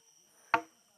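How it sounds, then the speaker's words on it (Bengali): Crickets in a hillside forest near Ham Ham waterfall, Srimangal, keep up a faint, steady high drone, broken once by a single sharp knock-like click. "ঝিঝি পোকার ডাক,"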